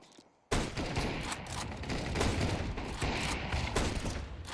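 Gunfire in a shooting video game erupts after a short quiet moment, a dense burst of rapid shots and booms that keeps rattling at a fairly even level to the end.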